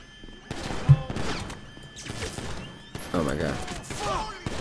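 Police shootout in GTA 5 Online: a burst of rapid gunfire near the start, then scattered shots and thumps under excited voices talking and exclaiming throughout.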